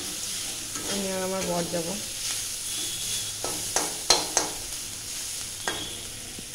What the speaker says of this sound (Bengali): পেঁয়াজ কেটে নিয়েছি, এটা ভাজা করব